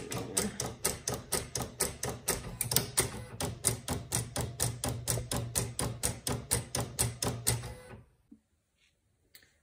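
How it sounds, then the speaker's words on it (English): A vinyl cutting machine cutting permanent adhesive vinyl for jar labels, giving a fast, regular train of mechanical clacks and whirs for about eight seconds before it stops and leaves near silence. "let's hit send, and you can hear my machine is going"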